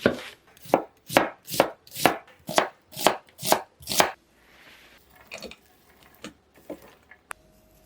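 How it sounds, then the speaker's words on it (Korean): Knife thinly slicing halved onion on a cutting board: about nine loud, evenly spaced chops in quick succession, then quieter scattered taps and handling sounds. "양파는 반으로 자른 다음 다시 반으로 자르고 얇게 슬라이스 해줄게요"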